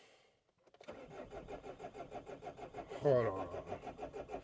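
A Renault Espace engine cranks and catches around the one-second mark, then runs in a steady pulsing idle with a brief louder rev surge near three seconds, close up, while someone speaks briefly over it.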